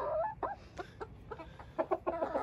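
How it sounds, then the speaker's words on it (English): Backyard chickens in a coop, giving a run of short, soft clucks and murmurs, close by and steady, with no talking. "They're really, really cool chickens."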